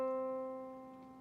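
A sustained piano interval ringing around middle C, decaying steadily from a single struck dyad, heard alone with no talking.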